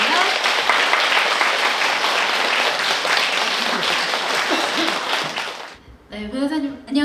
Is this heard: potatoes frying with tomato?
no